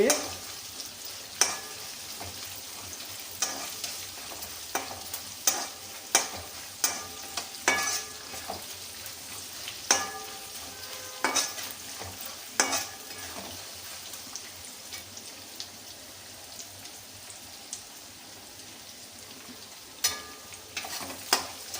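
Peanuts frying in a pan with cumin seeds, a steady soft sizzle with scattered crackles and sharp pops, close and continuous with no talking.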